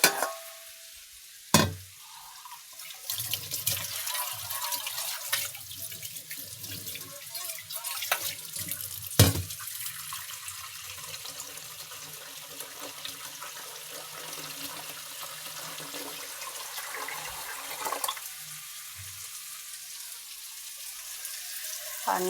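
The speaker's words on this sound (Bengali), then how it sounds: "পানি দিয়ে দিলাম।" Water is poured into a pan of frying eggplant curry, a soft continuous gush and hiss with a few sharp knocks and clinks of utensils, no talking.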